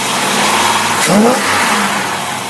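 Car engine with a large top 500 2x4 carburetor setup revving up, a loud close roar that rises and swells midway, then settles back toward a steady run.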